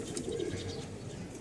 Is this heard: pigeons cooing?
yes